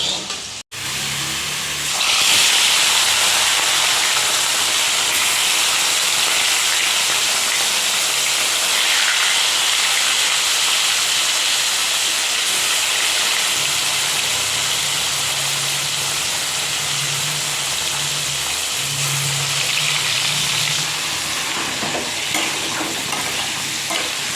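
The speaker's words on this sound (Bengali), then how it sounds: "এই যে তেলের মধ্যে গোটা জিরে ফোড়ন দিয়েছি" Cumin seeds sizzle loudly in hot oil, a steady crackling hiss that continues without a break from start to finish.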